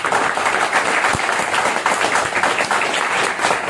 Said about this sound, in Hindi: एक बार दिन का स्टेज, एक बार जबरदस्त तालियां